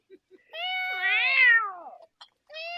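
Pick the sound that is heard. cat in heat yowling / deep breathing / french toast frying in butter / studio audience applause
cat in heat yowling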